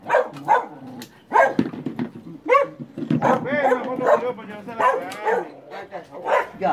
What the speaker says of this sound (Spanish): Hay un perro guapo ahí, Leopo.